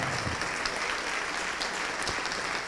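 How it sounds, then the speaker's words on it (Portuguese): A church congregation claps together in steady, dense applause, a continuous wash of many hands at moderate volume with no talk over it. "Vamos aplaudir mais, igreja."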